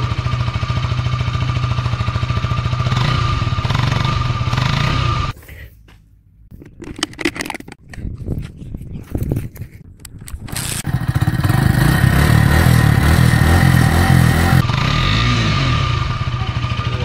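A KTM RC motorcycle engine and short exhaust run loudly and steadily up close, breaking into a rougher, uneven burst partway through before settling back into a strong continuous drone.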